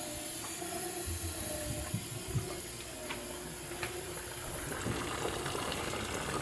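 Water rushes through a home heating pipe as the system is bled, a steady, close hiss with low gurgling underneath and a few faint ticks and bubbling pops, continuous and unbroken with no voices.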